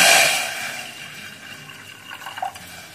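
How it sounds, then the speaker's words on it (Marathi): Water poured into a pan heating on a gas stove while making rice flour bhakri, a short splashing pour loudest at the start and fading into a softer trickle with a few faint drips near the end. "त्याच्यात अर्धा ग्लास पाणी टाकायचं."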